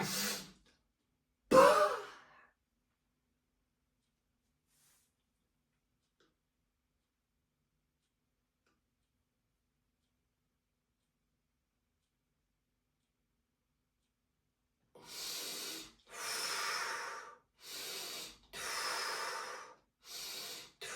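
Deep breathing during a breathing and facial exercise: one short breath near the start, then a long silence, then five rhythmic breaths in and out, close and clear, with no talking.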